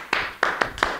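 School audience clapping together in rhythm, four sharp, separate claps spaced unevenly across about a second, moderately loud and close, with no voices over them.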